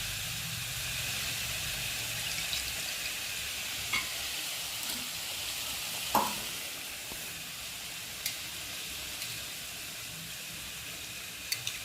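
A pot of tamarind water for puli pongal comes up to a boil, giving a steady broad hiss and low bubbling with a few soft clinks, alone with no talk.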